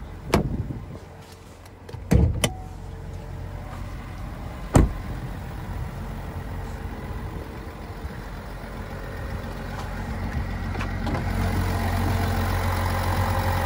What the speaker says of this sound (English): So there's a 3-liter Duramax diesel engine.